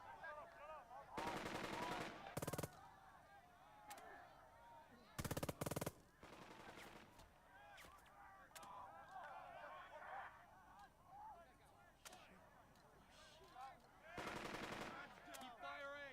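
Bursts of machine gun fire in the WWII strategy game Burden of Command, several sharp rattling volleys of one to two seconds separated by quieter battlefield ambience with scattered distant shots, fairly faint overall.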